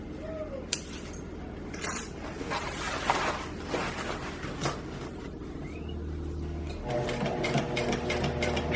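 A domestic sewing machine runs steady stitching passes through FRC robot bumper fabric, a close, even mechanical whir with brief pauses and restarts, and the motor pitch shifts slightly partway through.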